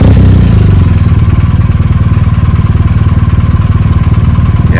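A motorcycle rides in repeated figure eights, its engine loud and close throughout, with a steady pulsing drone and no break in the sound.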